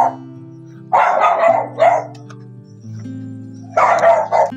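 Dogs bark near a house in a short burst, then a second volley a few seconds later, loud and close, with quieter pauses between.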